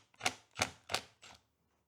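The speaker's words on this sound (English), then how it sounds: "Use a 15/16 socket to remove." A ratchet turning a 15/16 socket to remove the non-return valve on a David Brown 990 tractor's Selectamatic valve chest sounds as four quick, close clicking bursts in an even rhythm, with no talk.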